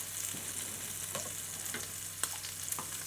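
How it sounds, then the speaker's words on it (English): Bánh xèo batter hitting a hot pan gives a steady, hissing sizzle with a few faint clicks and pops scattered through it, moderately loud and close. "Now I'm going to add in the batter and make sure you hold on to the handle."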